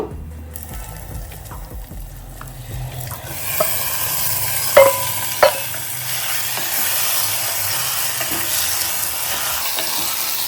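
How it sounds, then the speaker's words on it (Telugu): Half a kilo of washed chicken pieces dropped into a hot pot for chicken curry, setting off a steady sizzle and frying hiss with a few sharp clatters and stirring scrapes midway. "ఇప్పుడు మనము చికెన్ని వేసుకుందాం."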